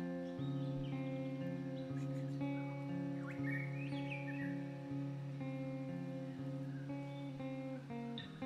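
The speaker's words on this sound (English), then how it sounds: "I love the bird noises in the background there." Birdsong sits in the background of a demo song, faint chirps and whistles weaving above a sustained, droning musical bed.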